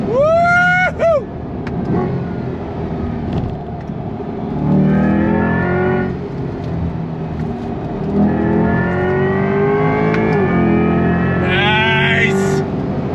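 A 2024 Chevrolet C8 Corvette E-Ray V8 with a Tremec 8-speed dual-clutch transmission roars through repeated rising revs, each pull cut off by a quick shift, loud and close throughout.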